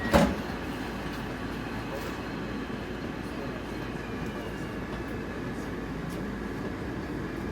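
Moscow metro train rumbling along underground at night, a steady, fairly loud broadband roar with no clear breaks, alone throughout after a brief bump at the start.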